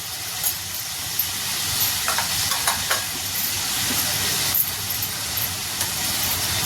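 Coriander powder and garam masala fry in oil for a green chicken masala, giving a steady, even sizzling hiss with a few faint clicks of stirring scattered throughout.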